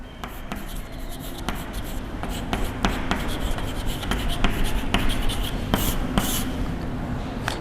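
Marker or pen strokes on a board while a logic diagram for a parity generator is drawn, rapid scratchy strokes and taps in irregular bursts throughout, close and fairly loud, with no talking.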